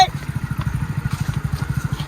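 Motorcycle engine idling nearby with an even, rapid low-pitched putter that holds steady throughout.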